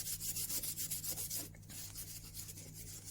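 Brass camera plate holder parts are rubbed and cleaned by hand, a close, steady rubbing swish with a brief pause midway, quiet, no talking.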